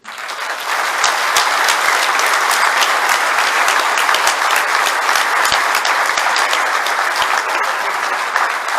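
A crowd claps steadily and loudly at a wrestling hall of fame ceremony, sustained applause with a few sharper individual claps standing out across the whole stretch.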